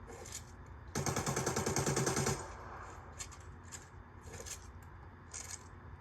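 Rapid machine pistol burst in a video game, a dense loud rattle lasting about a second and a half, followed by quieter clicks and metallic clacks of a tactical reload.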